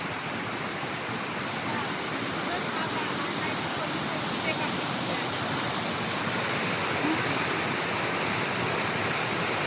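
Continuous rushing roar of a mountain waterfall near Trabzon, steady and broadband for the whole stretch, with no talk audible over the water.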